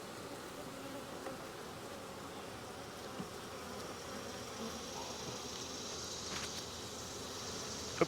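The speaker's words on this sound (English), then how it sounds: "Bee bringing in pollen." Honeybees hum steadily at a hive entrance as a forager brings in pollen. The buzzing is a soft, continuous drone with no speech.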